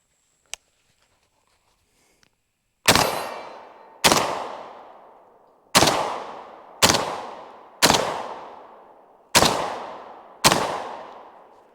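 Beretta 1301 Tactical Mod2 shotgun firing Winchester shells at a 15-yard range, seven loud sharp blasts at irregular intervals, each decaying quickly, after a faint click or two.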